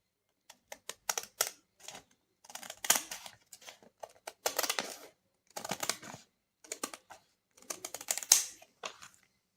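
Scissors cut along the edge of a 6-pound brown paper bag, a series of crisp, close snipping and crinkling bursts in irregular clusters with short pauses between.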